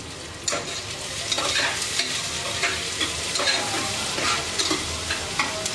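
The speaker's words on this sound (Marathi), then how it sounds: "हे एकदम ब्राऊन भाजून घेणार आहे मी" Ingredients for a vegetable pulao, likely potatoes and carrots, being stirred and fried until brown in a pan, with a steady close sizzle broken by repeated scraping strokes of a spoon throughout.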